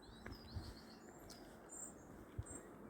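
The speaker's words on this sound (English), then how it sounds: "You can hear the birds singing in the background." Faint birdsong drifts from a distance over a steady outdoor hiss along a tree-lined walkway near Gilmerton, with a few high chirps and short whistled phrases in the quiet background.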